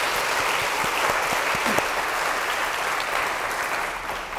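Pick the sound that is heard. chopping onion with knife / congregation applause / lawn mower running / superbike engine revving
congregation applause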